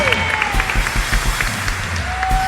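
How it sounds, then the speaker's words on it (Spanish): Enthusiastic applause from a Spanish-speaking church congregation during a sermon, loud and close, with clapping, crowd noise and some cheering mixed with voices throughout. "Dale fuerte ese aplauso a papá."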